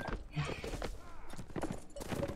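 Horse hooves clip-clop in a samurai battle video game, a quick rhythmic trotting under game effects and background voices.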